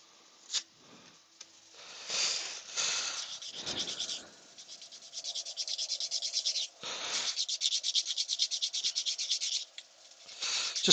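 Rhythmic rasping strokes of a sanding pad rubbing across a turned live-edge wooden bowl, close up, in several bursts with short pauses between, quickening into rapid back-and-forth scrubbing.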